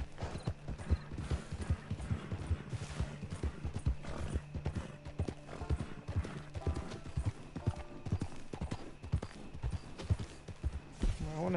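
Horse hooves clip-clop at a steady gallop-like rhythm in the video game Red Dead Online, fairly close and continuous, with faint mechanical clinks and no talk.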